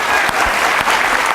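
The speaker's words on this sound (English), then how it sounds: "Let's give him a round of applause." A live audience breaks into loud, sustained applause for an artist at a community art event. The clapping is dense and steady throughout, with no other sound over it.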